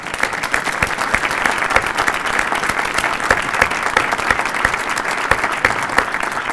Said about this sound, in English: I want to ask each of you to give an applause to our architects